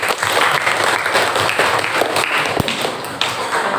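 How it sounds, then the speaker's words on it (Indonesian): A group of students in a classroom coaching session claps together in a dense burst of applause, close and loud, with individual sharp claps standing out before it thins toward the end. "Terima kasih tepuk tangan semuanya."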